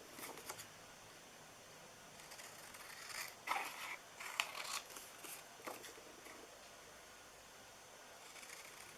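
Scissors cutting paper, heard as faint, close snips and rustles in short clusters, busiest in the middle, over a quiet background with no talking.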